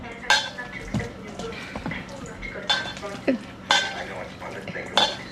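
Ingredients are stirred together with an egg in a bowl, a series of sharp utensil clinks and scrapes against the dish in irregular bursts, with a faint sizzle in the background.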